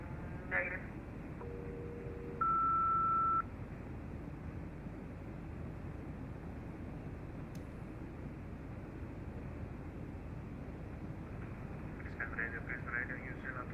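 A SELCAL tone over an aircraft radio, a duplicate call meant for Qantas 142: a short two-pitch sequence of steady electronic tones, then one higher held tone lasting about a second, over a constant radio hiss with faint chatter.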